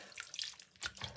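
Sea moss being rinsed of its salt in water, with splashing and dripping sloshes coming in short bursts, close and fairly quiet, no voices.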